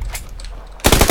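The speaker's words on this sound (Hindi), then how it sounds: "मुझे एक गोली मार दी" Burst of automatic gunfire in the PC game PUBG PC Lite, loud and close, cutting in abruptly after a brief quieter moment.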